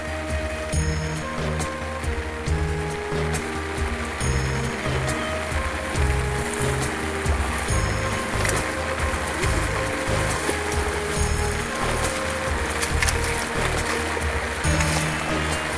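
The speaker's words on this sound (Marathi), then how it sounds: "पाणी आलेलं आहे पूर्ण हे बघा इकडे आलेलं आहे" Floodwater from the first monsoon rain of the Konkan season rushes steadily past, a dense, continuous roar that stays even and close for the whole stretch.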